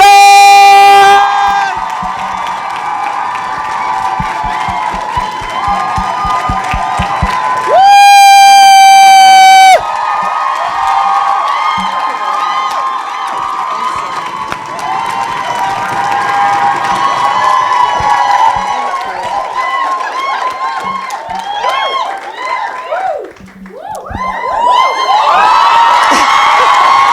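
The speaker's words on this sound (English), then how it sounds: "A big round of applause!" A crowd cheers and whoops over loud music as a chief executive is welcomed on stage at a talk event, with applause mixed into a sustained, energetic roar and a brief horn-like blast.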